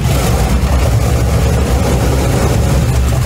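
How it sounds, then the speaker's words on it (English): A Pratt & Whitney R-4360 radial aircraft engine runs loud and steady, a dense, heavy low-pitched roar that holds level throughout with no pauses. "the Pratt & Whitney R-4360 radial aircraft engine, famously nicknamed the corn cob for its distinctive appearance"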